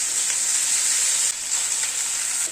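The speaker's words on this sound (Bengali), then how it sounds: "আদা রসুন কাঁচা লঙ্কাটাকে মিনিট খানিক জাস্ট একটু নাড়াচাড়া করে নিলাম।" Ginger, garlic and green chili paste frying in a pan as it is stirred, a steady, loud hiss of sizzling oil with slight shifts from the stirring.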